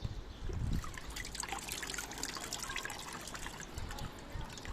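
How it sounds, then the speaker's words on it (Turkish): Water trickles and splashes softly as succulent plants in pots are watered, a faint, continuous close pouring with a small burst near the start. "Hepsini bu şekilde suluyorum. Ve suyun bittikçe tekrar su ekliyorum."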